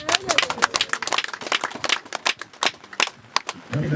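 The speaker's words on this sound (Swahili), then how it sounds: "Hebu mpigieni makofi" A crowd at a ward community meeting claps for the district commissioner in an uneven, close burst of applause that thins toward the end, with voices mixed in among the claps.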